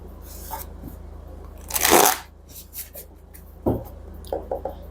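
Tarot cards are slid and rearranged on a table. One loud rustling sweep comes near the middle, with a few softer taps and shuffles before and after, in an otherwise quiet room.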